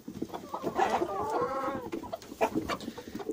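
A broody hen clucks softly in a run of throaty, warbling notes, close by and fairly quiet, with faint farmyard rustling around it.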